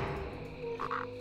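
Frogs croak in a World of Warcraft marsh near Brackenwall Village, with two short, clear croaks close together near the end over a steady ambient game background.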